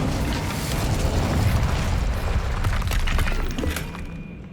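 The Incendio fire spell is cast in Hogwarts Legacy: a sustained roaring, crackling burst of flame that swells loud for a few seconds, with sharp snaps scattered through it, then trails off.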